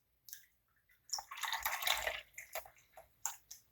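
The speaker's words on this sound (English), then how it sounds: "So we're just going to pour this into our ramekins." Coconut buttermilk panna cotta mixture poured into ramekins, close soft liquid splashes and trickles in a few short bursts with pauses and drips between.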